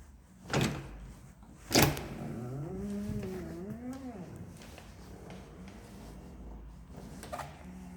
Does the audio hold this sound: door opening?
yes